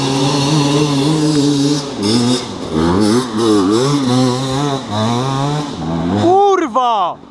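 Enduro dirt bike accelerating hard from second gear in a forest, a loud buzzing engine climbing and falling in pitch as it revs, ending in high strained revving, with people talking over it.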